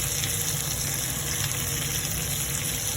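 Fresh green peas fry in oil with vegetables in a clay pot over low heat, giving a steady, even sizzle that continues without pause at close range.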